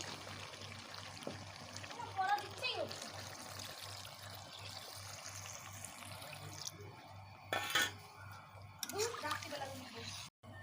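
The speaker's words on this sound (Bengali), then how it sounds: "এবারে দিয়ে দেবো পরিমাণ মতো জল" Water is poured into a pan of cooked mutton kosha, heard as faint, scattered splashes and trickles over a low, steady background hum. The sound is quiet and intermittent.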